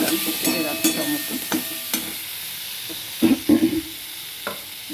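Chopped tomato hits a hot frying pan with turmeric while cooking Bengali kundri alu posto. A loud, steady sizzle fills the pan, broken by clicks and scrapes of stirring.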